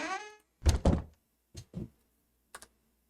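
Door opening and closing in a game under development, a few short, quiet thunks spaced apart after a brief fading tone, with silence between them.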